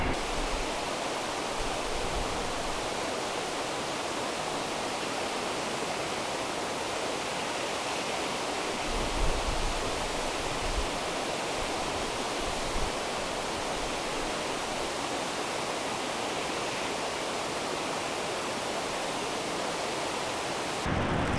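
A creek in the Yoho Valley backcountry flows steadily beside a campsite eating area, a continuous broadband rush of moving water that stays even and close for the whole stretch, with no voices.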